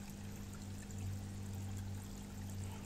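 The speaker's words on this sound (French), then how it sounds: "on entend le ruisseau en bas" A small stream flowing somewhere below in a snowy landscape, a soft continuous trickle and rush heard faintly at a distance, steady throughout with a low background hum and no talk.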